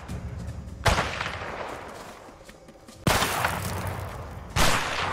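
Gunfire in a shooter video game, rapid-fire weapon: three abrupt, loud bursts crash in at intervals, each trailing off into a dense rumbling tail.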